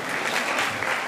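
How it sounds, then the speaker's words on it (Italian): Applause for the day centre kids at an evening charity fundraiser event in Pachino, a dense, steady clapping from a large audience filling the whole moment, loud and sustained. "E un applauso va a tutti i ragazzi del centro diurno."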